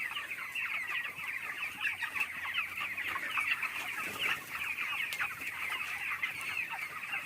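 Broiler chickens in a crowded farm shed with damp litter and CRD respiratory disease: dense, continuous clucking and short rough calls from many birds at once, steady and close, with no one talking.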